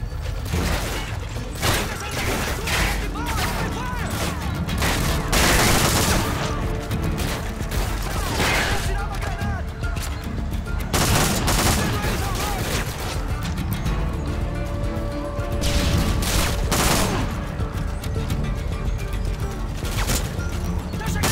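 Gunfire in Call of Duty: Modern Warfare 2 Special Ops, loud dense bursts of automatic fire and crashes with mechanical clatter running continuously, with game voices mixed in.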